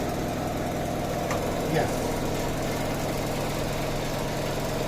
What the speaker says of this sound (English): increase the steps one by one and see the RPM, speed of the motor is increasing.